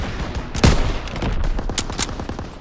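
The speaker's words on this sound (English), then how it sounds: "Daniels, hit that MG!" Sustained machine gun fire in the World War II shooter Call of Duty WW2, rapid bursts of shots mixed with distant battle noise and explosions, steady and fairly loud.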